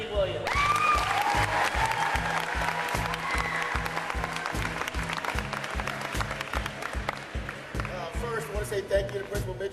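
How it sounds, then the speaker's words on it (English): Steady audience applause for Anthony Williams at an FBU All-American presentation, dense rhythmic clapping from a sizable crowd filling the space, with a few cheers and voices mixed in before it gradually thins. "give a round of applause to Anthony Williams"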